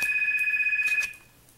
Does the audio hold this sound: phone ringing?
yes